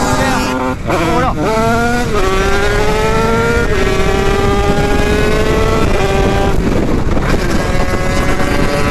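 A 100 motorcycle with a TXT exhaust and a tuned cylinder revs hard and loud close by, its engine pitch climbing and dropping through several gear changes under wind noise.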